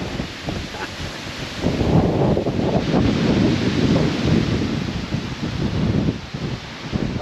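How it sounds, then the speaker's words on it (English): Strong gusty wind buffets the microphone on a roadside stop in Banff National Park, a loud, continuous rushing roar that swells and eases with the gusts. "I am not lying, it is very windy."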